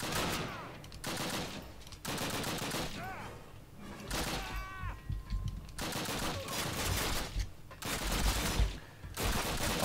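Enemy gunfire in the Call of Duty campaign, with repeated bursts of rifle and machine-gun fire crackling in clusters throughout, mixed with game effects and occasional thuds.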